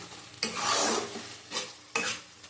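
Masala stir-fried in oil over a low flame, a close hiss and scrape of a spatula working it in the pan, with three distinct stirring strokes.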